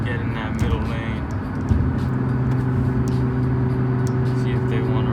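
Supercharged 400 hp Audi S4 cruising on a highway, a steady engine drone and road roar from inside the cabin that swells slightly partway through, with a voice talking over it.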